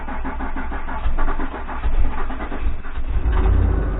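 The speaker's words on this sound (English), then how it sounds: "let's just put the key in the ignition here and hear how it starts up." A 2009 Ford F150 with the 4.6 liter V8 is started with the key, cranking a bit hesitantly and slowly before catching into a loud, rumbling idle heard up close with no talking.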